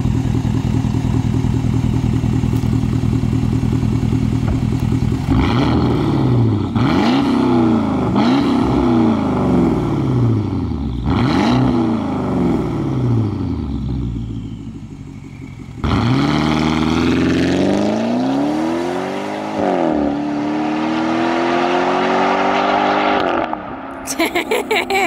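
A straight-piped Porsche Cayenne Turbo's loud, raspy exhaust accelerates on the road through several gear shifts, rising pitch sweeps and drops, then settles into a steady cruising drone near the end.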